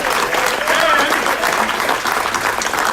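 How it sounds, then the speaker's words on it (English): Loud, sustained applause from a crowd at a city council meeting honoring a high school wrestler, dense clapping filling the room with a few cheers mixed in. "Big round of applause"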